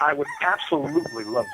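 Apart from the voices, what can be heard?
rooster crowing in background of phone call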